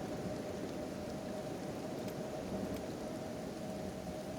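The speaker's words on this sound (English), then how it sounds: "Another lightning strike." Rain and a thunder rumble from a storm in the video game Kenshi, a dense, steady wash of falling rain with low rolling thunder beneath it and no voices.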